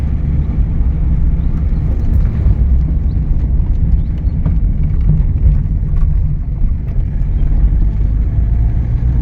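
Peugeot 205 GTX driving along small country roads on a sunny day, a steady low engine drone and road rumble running continuously and fairly loud throughout, with no talking.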